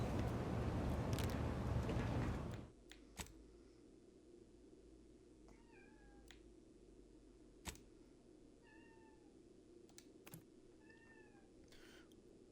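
A pet cat meows softly about three times, each call short and rising, under a steady low background hum that follows a loud noisy burst at the start.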